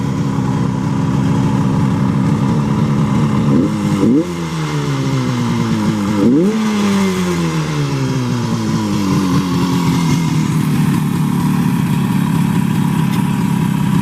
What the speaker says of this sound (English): this is a good running, good sounding bike